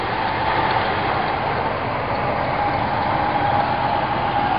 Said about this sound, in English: Engine running. That's how loud it sounds on the outside.